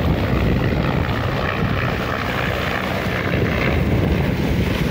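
A low-flying airplane over Manila Bay at high tide gives a loud, steady engine roar that holds throughout, close overhead and unbroken, with no talk over it.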